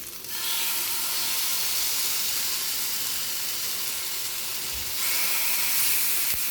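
Fish frying in hot oil with curry leaves in a pan, a steady loud hiss and sizzle running throughout, swelling briefly louder near the end, with no talking.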